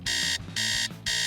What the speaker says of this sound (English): she didn't hear her alarm on her phone ringing.